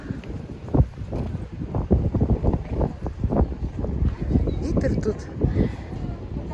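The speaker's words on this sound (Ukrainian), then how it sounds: "такий вітер." Strong wind buffets the microphone in loud, gusty rumbles beside water at Bukovel, while a person talks over it.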